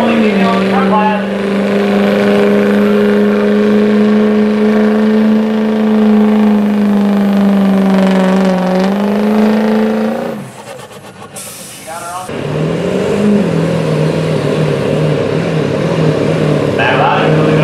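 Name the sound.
pulling truck revving down the track at county fair truck pull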